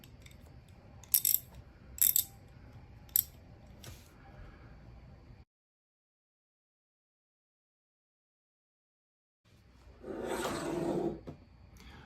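A ratchet wrench clicks while tightening and loosening, with a few sharp, close metallic clicks at steady intervals, then silence, then a louder burst of ratcheting.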